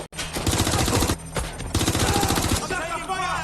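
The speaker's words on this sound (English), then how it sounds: "I'm taking fire!" Rapid automatic gunfire in Watch Dogs: Legion set in London, loud sustained bursts with a brief pause mid-way, then resuming and tapering off.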